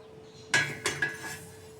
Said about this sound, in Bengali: তাওয়াটা বসিয়ে দিই